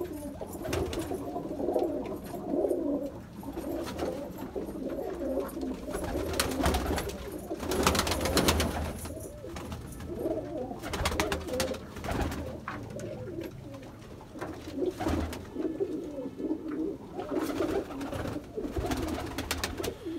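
Pigeons coo repeatedly and fairly close, low throaty calls overlapping in steady rhythm with some flapping or rustling bursts, at a loft of Rampuri pigeons kept by a fancier.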